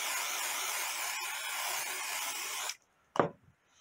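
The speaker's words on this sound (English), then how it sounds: "I'm going to use KK2000, which is a temporary spray, and I'm going to spray the stabilizer." KK2000 temporary spray adhesive hisses from an aerosol can onto embroidery stabilizer in a sewing session, a loud continuous spray that stops abruptly, followed by a brief quiet pause and one short faint burst.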